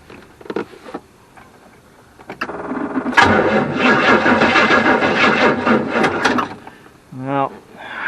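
A Studebaker Avanti engine cranks slowly on a weak battery, a loud, labored churning roar lasting about three and a half seconds, with the fuel pump's faint whir and scattered knocks around it, and brief speech at the end.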